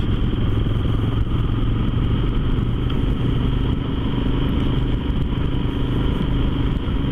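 Motorcycles heading out on a sunny ride, a steady close engine drone with constant low rumble and wind roar, unbroken for the whole stretch with no talk.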